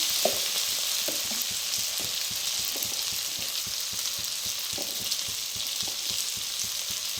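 Pork with bamboo shoot stir-frying in a hot pan, a steady loud sizzle with frequent soft scrapes and clacks of the spatula stirring throughout.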